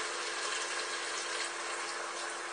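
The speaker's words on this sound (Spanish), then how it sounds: "le vamos a echar un chorrito de vino blanco." A small splash of white wine poured into a pot of beef and vegetables makes a faint, steady liquid pouring sound with no talk.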